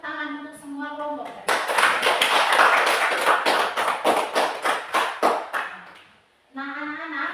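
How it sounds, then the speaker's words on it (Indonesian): Children in a classroom clap their hands for all the presenting groups, producing a burst of dense claps that thins into several slower, separate claps before fading, with a teacher's voice heard before and after. "mari kita tepuk tangan untuk semua kelompok"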